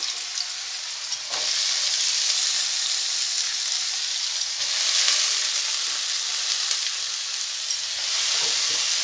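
Potato pieces fried with black cumin in a pan give a steady, close, dense sizzle and hiss, with faint stirring clicks throughout and no talk.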